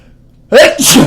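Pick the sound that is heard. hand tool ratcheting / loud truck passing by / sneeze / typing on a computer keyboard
sneeze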